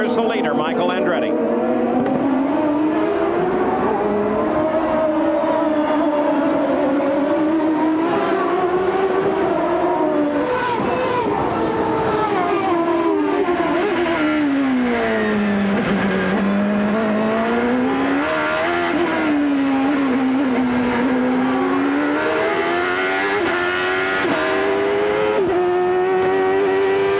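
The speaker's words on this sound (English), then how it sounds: "Jack right now has Vassar and Bobby climbing all over the back of his car" IndyCar race cars at the 1995 Molson Indy Toronto street race scream past in a close pack, engines rising and falling through gear changes, loud and continuous beneath a commentator's voice.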